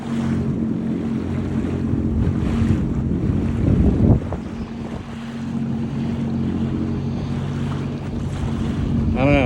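A Sea-Doo personal watercraft cruising on a lake or coastal water in Maine, its steady engine drone running beneath heavy wind buffeting and water rush throughout.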